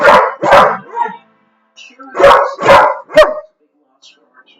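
A dog barks in two bursts of two or three sharp barks each, close and loud, with short yips trailing off, while someone speaks nearby.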